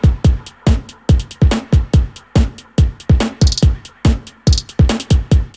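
A trap-style drum beat in an alternative R&B production, with punchy kicks, snare hits, claps and ticking hi-hats. It runs as a steady, tight, evenly spaced pattern, loud and alone with no other sounds.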